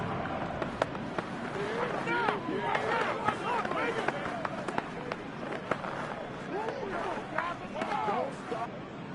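A football stadium crowd at an NFL game makes a constant loud roar and babble, building ahead of a big third down. Sharper cheers and shouts break through the dense wash of noise throughout.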